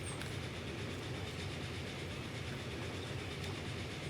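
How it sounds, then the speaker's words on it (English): Trains running along the line in Transport Fever 2, a steady rumbling roll with faint clickety-clack, continuous and fairly quiet with no talk. "I just really love to watch my trains going on the line like that"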